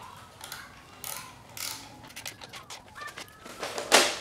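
Quick clicking ratchet strokes come up close as a bolt is tightened on a 4T65E-HD automatic transmission going into a Pontiac Fiero with a 3800 swap, ending in a sharp metallic snap.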